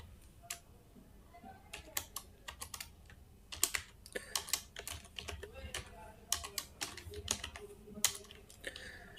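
Keys clatter on a computer keyboard while HTML is written for a CV project, bursts of clicks and short runs of taps across the whole stretch, with quiet pauses between groups.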